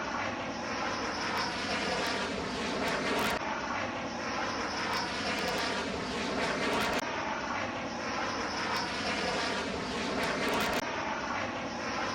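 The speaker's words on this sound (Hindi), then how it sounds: "एयर स्ट्रिप पर लैंड करता हुआ राफेल" A Rafale fighter jet lands on an airstrip with a loud, continuous broadband jet roar that stays steady throughout and has no voices over it.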